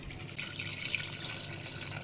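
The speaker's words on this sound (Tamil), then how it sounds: "இப்போ தண்ணி சேர்த்துக்கலாம்." Water is poured into a cooking pot over mutton bones, small onions and chopped tomato for mutton bone soup, giving a steady close splashing pour with no talk.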